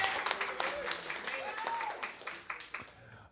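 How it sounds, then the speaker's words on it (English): Comedy club audience at Comix clapping and cheering in a short burst of applause, dense and close, fading slightly toward the end. "so clap for me now"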